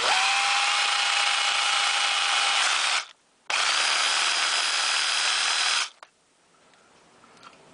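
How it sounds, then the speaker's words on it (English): A power drill with a bit enlarges a screw hole in a GSG-5 rifle lower housing, running in a steady loud whine for about three seconds, pausing briefly, then running again before stopping. "I'm going to use a drill bit to do that."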